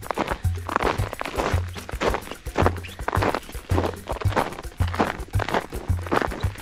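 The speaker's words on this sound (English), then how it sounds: "Very crunchy snow, which is optimal for micro spikes." Hiker's footsteps in microspikes crunch over crunchy snow on a trail in the Angeles National Forest, a steady close rhythm of sharp crunches about twice a second with no talking.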